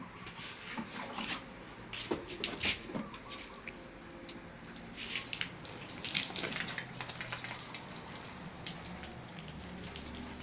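A water tap runs while compost waste for worm farming is being prepared, giving a continuous rushing splash mixed with rubbing and shuffling sounds. The water grows steadier and louder in the second half.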